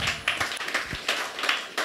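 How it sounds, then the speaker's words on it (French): Rhythmic, evenly spaced hand clapping rises from a French-speaking church congregation in praise, a brisk steady beat of claps close by with no talk. "tu peux applaudir pour la gloire de Dieu"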